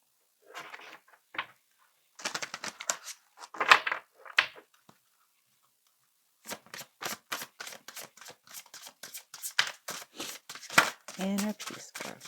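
Cards from an Inner Peace oracle deck handled and drawn, with soft taps and slides early on and then a long run of quick rhythmic riffling shuffles, close and quiet.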